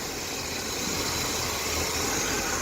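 An older car engine running on its original carburetor idles steadily. The hum is broadband and even, with a low rumble and no talking.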